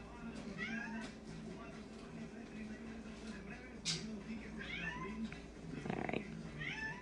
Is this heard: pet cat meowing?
yes